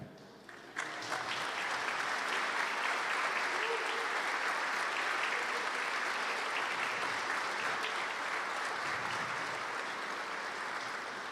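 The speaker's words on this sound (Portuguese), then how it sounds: "Vamos aplaudir essa gente?" A standing congregation of about forty people, the founding generation of 1979 to 1989, receives loud, sustained applause at a church's 40th anniversary thanksgiving service. The clapping begins abruptly and continues evenly as a dense, steady wash.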